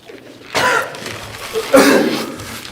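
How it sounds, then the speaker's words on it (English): Two harsh coughs burst out after a bite of very hot, spicy food, the second rougher and followed by a short throaty rasp, close and loud. "It was good until I coughed and it hit the back of my throat."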